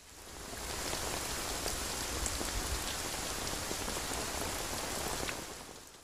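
Heavy rain pours in a steady, dense patter on surfaces, fading in and out over several seconds with no voices.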